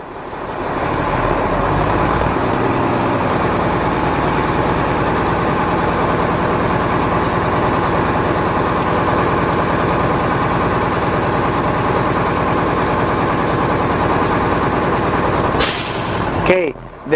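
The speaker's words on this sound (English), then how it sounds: "I'm going to press on the accelerator to build the air again" A heavy truck's engine is held at raised revs to build air brake pressure during a CDL inspection, giving a loud, close, steady diesel roar with a sharp burst of air near the end.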